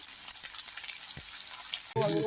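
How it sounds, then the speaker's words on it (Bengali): Mixed vegetables frying in oil, a faint hissing sizzle with a small knock, then a louder burst of frying noise near the end; a voice is briefly heard. "চলো এটা একটুখানি ভাজা ভাজা হোক সব সবজিগুলো"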